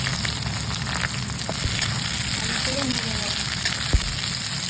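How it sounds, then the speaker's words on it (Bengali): Chopped onions sizzle and fry in hot oil in a kadai while mutton kosha is being prepared. The crackle is steady and close throughout, with a few soft stirring knocks and no one speaking. "পেঁয়াজটা আমার ভাজা ভাজা হয়ে গেছে"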